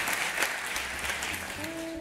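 Audience applause at a live Turkish improv comedy sketch show, a steady wash of clapping filling the whole two seconds, with a faint tone entering near the end.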